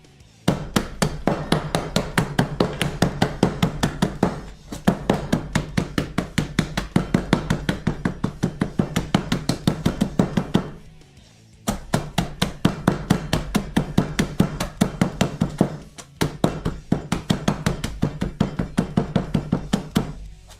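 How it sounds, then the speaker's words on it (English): Ice crushed for a cocktail with a small wrench, rapid repeated sharp hammering strikes in long steady runs with two short pauses, loud and close. "Little bit of crushed ice. With the tiny ass wrench."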